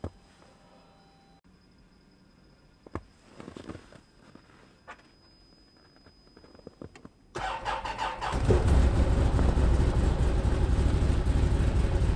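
A Can-Am Defender HD10 utility vehicle starts in winter cold. A few faint clicks and short cranking attempts come first, then the engine turns over slowly and catches into a loud, steady idle that continues to the end.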